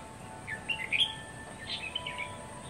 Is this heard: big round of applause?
no